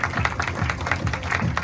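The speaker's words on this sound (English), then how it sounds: "round of applause" A brief round of applause from a small audience at a mini black belt extravaganza, steady clapping heard close and continuous.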